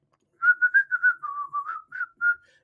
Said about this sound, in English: You can whistle.